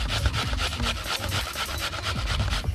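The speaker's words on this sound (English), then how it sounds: "I'm grating the onion. So grating the onion." An onion is grated by hand for stuffed baked chicken breast, giving close, rhythmic rasping strokes in a quick back-and-forth pattern of about a dozen scrapes, with no talk.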